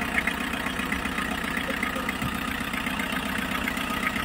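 A Mitsubishi L300 engine idles steadily after break-in with a machined cylinder head, a continuous mid-pitched hum running evenly throughout with no talk over it.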